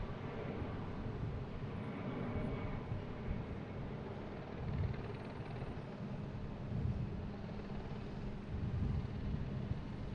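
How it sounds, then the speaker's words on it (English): A low, steady jet roar from an Alaska Airlines Boeing 737 MAX 9 at Boston Logan airport, heard from a distance as a continuous rumble with mild swells and no talking. "I got Alaskan Airlines heading to Seattle, 737 MAX 9"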